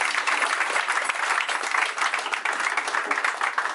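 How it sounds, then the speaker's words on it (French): An audience at a ceremony in Burkina Faso applauds, a loud, even roar of many hands clapping together that carries on steadily without any speech over it. "Je vous demande de vous applaudir vous-même."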